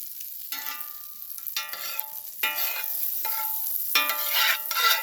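Deer meat sears in a hot pan, a loud crackling sizzle that swells in bursts as pieces hit the fat and keeps hissing steadily throughout, with no voices.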